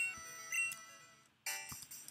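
The phone in the Game Boy Color game Pokemon Silver rings with faint, chirpy electronic tones, pausing briefly midway before a brighter, louder ring resumes.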